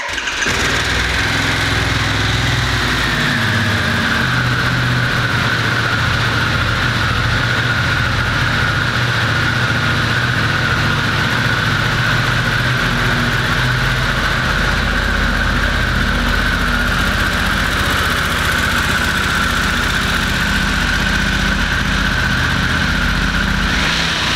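A 2022 Harley-Davidson Pan America motorcycle cranks and fires up, then settles into a steady, close, loud idle with a low rumbling pulse that holds unchanged throughout.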